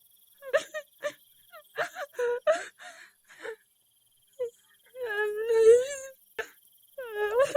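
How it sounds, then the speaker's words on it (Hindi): Faint whimpering cries like a small child's come from a well in an animated moral story, rising in short broken sobs and a longer wailing stretch, heard alone without talk. "अचानक कुएं की तरफ से किसी छोटे बच्चे के रोने जैसी बहुत हल्की आवाज सुनाई देती है।"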